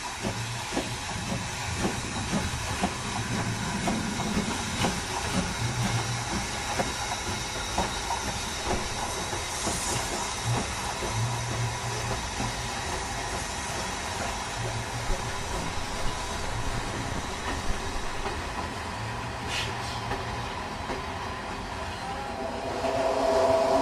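A 1935-built steam locomotive, overhauled in 2003, hisses on a run past in the Balkans, producing a long continuous roar of steam with rhythmic chuffing underneath, loud and fairly close throughout.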